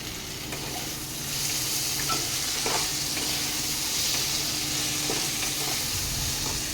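Chopped tomato frying in a pan for an okra curry, a continuous close sizzle with a few soft stirring clicks, moderately loud, no talk.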